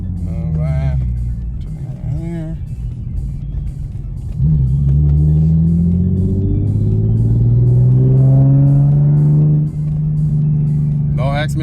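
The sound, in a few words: Infiniti G37 exhaust during hard acceleration pulls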